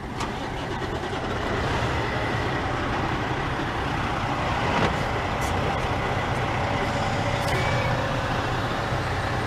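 A semi truck pulls off to set up for a California DMV driving skills test, its engine a loud, continuous diesel rumble nearby, with faint beeps and brief air hisses mixed in.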